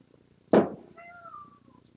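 A single close house cat meow, opening with a sharp bright attack and trailing into a thinner tonal tail, alone against a quiet indoor background.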